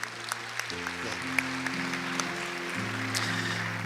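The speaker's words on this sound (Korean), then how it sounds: "용기 내어서 순종의 한 걸음을 걷고 이 자리에 나오신 6분의 성도님들에게 우리 박수와 격려의 박수 한번 드리도록 하겠습니다" Church congregation clapping in encouragement at a seminar, moderately quiet applause over a sustained organ-like chord that shifts pitch.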